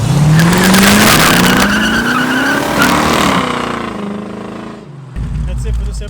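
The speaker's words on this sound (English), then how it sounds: "Because it burned rubber." A 1972 Datsun 580Z Spyder burns rubber with a loud, sustained tire squeal over a roaring engine that rises and fades, ending in a brief low rumble.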